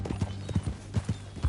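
Horse hooves clip-clopping at a steady trot in the video game Red Dead Redemption 2, close and clear, with a faint low hum underneath.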